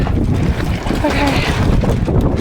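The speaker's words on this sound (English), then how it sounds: "The wind is destroying this wall also." Strong storm wind buffets and roars against a greenhouse, a loud continuous blustery rush with heavy low rumble and microphone wind noise throughout.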